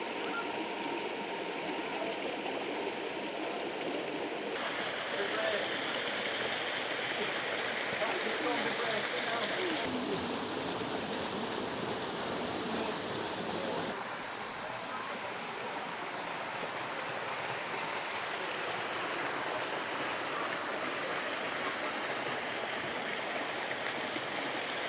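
Janet's Foss waterfall in Malham, Yorkshire pours in a steady, dense rush of falling water that fills the whole scene without a break.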